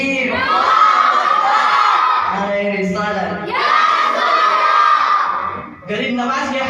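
Religious gathering crowd roaring back in unison after a takbir call at a sermon about Khwaja Gareeb Nawaz, loud sustained mass shouting in two long surges with a brief dip before a third burst.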